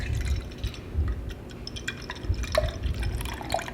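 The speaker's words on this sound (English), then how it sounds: "let me pour out half a cup of milk for us" Half a cup of milk is poured into a container for cinnamon rolls, giving soft liquid trickling and dripping with a few small glassy plinks, fairly quiet and close.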